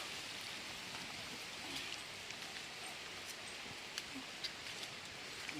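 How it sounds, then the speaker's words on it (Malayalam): Steady light rain falls outdoors, a soft continuous patter of drops with a few sharper drips standing out, fairly faint and with no talking. "മഴ വരുന്നു"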